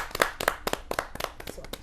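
A handful of listeners at a Hindi poetry recital clap for a young poet being welcomed to the stage, sparse, distinct claps with a loose irregular rhythm, fairly quiet and close.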